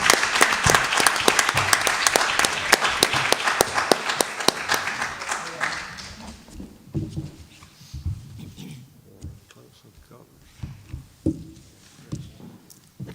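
Audience at a school board meeting applauds two graduates, loud clapping for about six seconds that then fades into scattered sounds and quiet murmurs.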